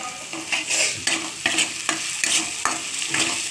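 Onion with green chilli and chopped ginger being stir-fried in a pan: rhythmic spatula scrapes about twice a second over a constant crackling sizzle, close and fairly loud.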